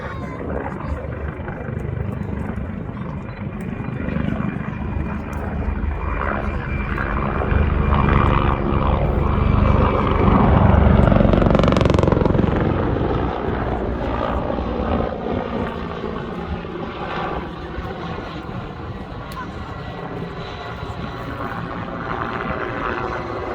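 A Hawker Hind biplane flies past at the IWM Duxford Battle of Britain airshow, its loud piston engine droning steadily, swelling toward a peak midway and then easing off while staying prominent to the end.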